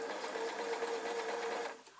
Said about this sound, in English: then I'm going to take this and place it under the sewing machine and sew again